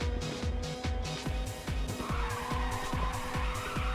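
A car drifting in Ridge Racer 2 on PSP, continuous tire skidding and squeal over a revving engine with rapid rhythmic pulsing, loud and close.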